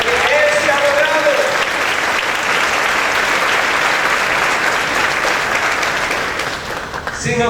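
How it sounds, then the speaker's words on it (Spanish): A church congregation breaks into loud, sustained applause during a Spanish-language Sunday service. A brief voice is heard at the start, and the clapping fades slightly near the end. "Den un aplauso al Espíritu Santo"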